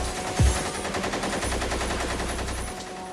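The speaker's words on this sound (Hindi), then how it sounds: "1650 राउंड गोलियां दागी गई।" Rapid machine-gun fire rattles in a continuous, evenly spaced stream from a crowded walled garden at Jallianwala Bagh, with a heavy thump near the start and a low rumble beneath the steady bursts.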